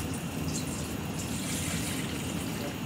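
Water pours steadily into a baking dish for a chicken dinner, making a continuous close splashing rush with no talk.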